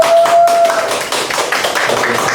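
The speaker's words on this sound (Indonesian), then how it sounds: "Tepuk tangan dulu Kang buat Kang Nandang" Applause for Kang Nandang at a lively gathering, a dense, steady patter of many hands clapping for about two seconds, fairly loud and continuous with no speech over it.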